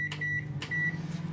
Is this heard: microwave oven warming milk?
yes